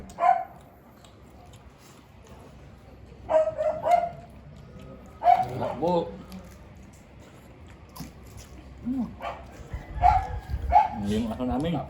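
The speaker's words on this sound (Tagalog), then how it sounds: "Maingay yung Aso namin." A pet dog barks in short, repeated yaps and bow-wows at a middle distance, mixed with people talking and eating sounds at a meal of boiled pork hock and vegetable spring rolls.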